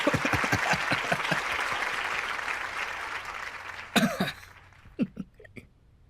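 Audience applause in a Marathi television courtroom-style interview show, a dense steady clapping that fills the first four seconds and then breaks off into scattered coughs and small noises.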